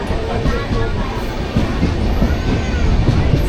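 A passenger train running between Ahmedabad and Ekta Nagar rumbles steadily, loud and close, with faint rhythmic wheel clatter throughout.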